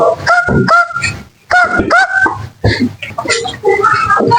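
A person imitates a chicken with loud, close clucking and squawking calls, two sharp honking bursts followed by choppier cackles, heard alone without talk.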